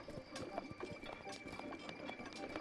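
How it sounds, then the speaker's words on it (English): Horse hooves clip-clop in a steady, even rhythm in the video game Zelda: Breath of the Wild. The hoofbeats are quiet and continuous, with no voices. "There's our horse."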